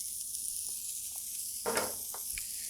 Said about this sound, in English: I'm gonna throw some onion down that I minced up previously.